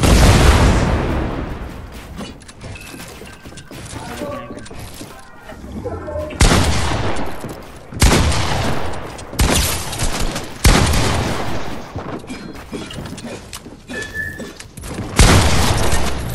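Gunfire in the Fortnite video game comes as repeated loud booming bursts and single shots scattered across the stretch, separated by quieter gaps with faint game ambience and occasional talk.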